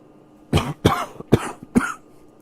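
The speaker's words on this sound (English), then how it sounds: "Excuse the cough" Four harsh, close coughs come one after another at a steady pace from someone still recovering from pneumonia, in a quiet room.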